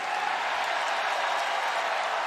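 An arena crowd at WWE SmackDown claps and roars in a dense, continuous wash of sound at even loudness throughout.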